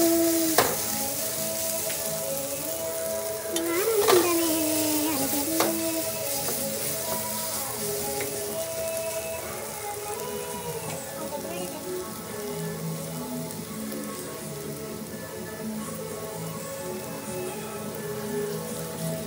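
Onions frying in oil for bread bonda give a steady, close crackling sizzle that continues evenly, with a few brief utensil knocks near the start.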